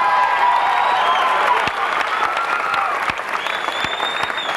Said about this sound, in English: let's hear it for Alan Wise